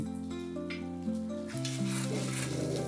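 Chili powder and turmeric fry in oil with garlic paste as they are stirred, a steady close sizzle running throughout beneath a constant hum, with no talk.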